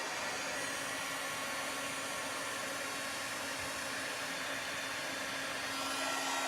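A heat embossing tool blows a steady, close whooshing hiss as it melts embossing powder on craft baubles, an unbroken airy drone lasting the whole stretch.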